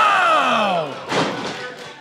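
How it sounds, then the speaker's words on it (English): A wrestler's knee strike lands on an opponent in a wrestling ring as a single sharp thud around the middle, after a loud crowd cheer that fades out first. "What a knee shot."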